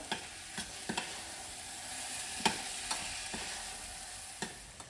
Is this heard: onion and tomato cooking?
yes